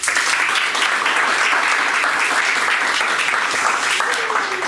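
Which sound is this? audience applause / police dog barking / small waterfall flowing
audience applause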